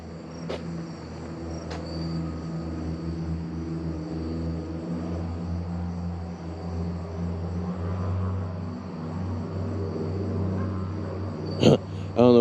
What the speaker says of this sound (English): the plane, because the airfield's right there